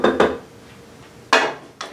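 Spoon scraping and clinking against a dish while a keto tuna noodle casserole mixture with eggs and coconut cream is tossed together, two short bursts, a pause, then two more, close and alone.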